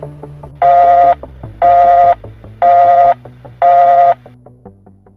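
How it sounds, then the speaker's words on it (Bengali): Telephone call beeps, four evenly spaced loud electronic tones heard alone, with faint low background sounds between them. "তোতা ভাই, কেটে ফোন দিছিল?"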